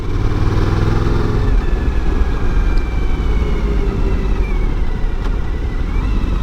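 Suzuki V-Strom 1000 motorcycle on a road test ride: a steady, loud engine drone with gradually shifting pitch, carried under constant wind rush for the whole stretch.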